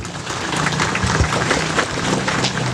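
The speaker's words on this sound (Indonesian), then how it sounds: "Tepuk tangan untuk itu." Applause from a graduation ceremony audience at a Baptist seminary, a steady wash of many hands clapping at moderate loudness for a few seconds, with no talking over it.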